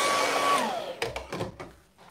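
A hair dryer is blown over wet paint on a painting, a steady whining whoosh that winds down after about a second, followed by a few soft clicks and knocks, close and with no speech.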